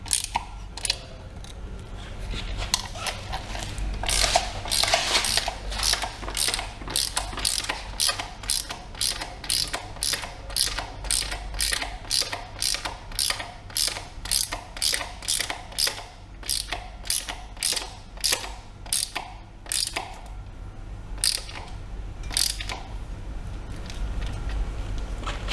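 A ratchet tightens bolts on an Inokim electric scooter during a battery replacement, giving steady, evenly spaced clicks, close and loud, running for about twenty seconds with brief pauses.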